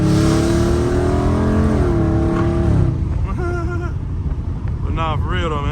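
A Dodge Charger Scat Pack engine roars loudly while driving, revving with rising pitch for the first half, then easing to a lower rumble as voices talk over it.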